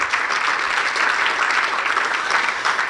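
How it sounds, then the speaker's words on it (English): Steady, full applause from an audience at the 2019 Pickleball Hall of Fame induction ceremony, a continuous even roar of many hands clapping with no pauses. "So, clap for Barney."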